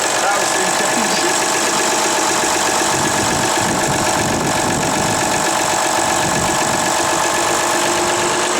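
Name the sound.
engine cold start and idling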